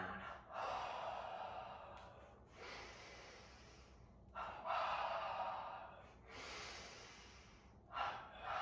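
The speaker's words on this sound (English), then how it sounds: "So bend the knees, palms touch, tense up in a wave." Forceful double breaths during an energization exercise class: several loud, sharp inhale-exhale bursts in a repeating rhythm, close and alone.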